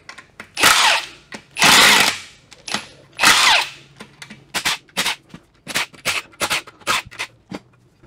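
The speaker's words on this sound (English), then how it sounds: "Now we're going to remove the bolts from it." A power tool whirring in short close bursts as it backs bolts out of a ZF S5-42 transmission shift control housing, longer runs first, then quick repeated zips and clicks.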